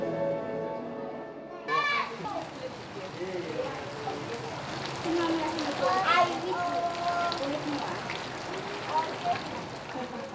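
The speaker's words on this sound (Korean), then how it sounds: "열대 소나기가 내리는 토요일 오후" A tropical rain shower on a Saturday afternoon in the Philippines, steady rain pattering on surfaces beneath music and a narrating voice that begins partway through.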